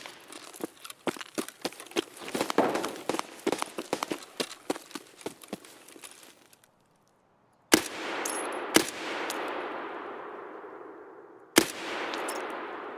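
Gunfire in the video game Escape From Tarkov: a rapid burst of distant shots, then a pause, followed by several single loud cracks that each trail off in a long echoing tail.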